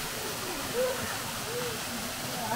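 A small monsoon waterfall keeps up a steady, fairly faint rush of falling water, a continuous wash of noise with a hint of voices nearby.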